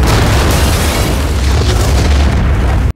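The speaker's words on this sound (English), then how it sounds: "Willie Pete is a nickname for white phosphorus, a chemical used in grenades, bombs, and rounds for mortars, tanks, and artillery" A loud, close boom fills the whole moment as a tank fires a white phosphorus round in a war-film battle scene, a dense rumbling blast that stays heavy throughout before cutting off abruptly.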